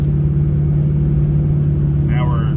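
A Ford 6.0 Powerstroke diesel engine runs with a loud, steady low drone and rumble, holding an even level throughout, with a brief voice near the end.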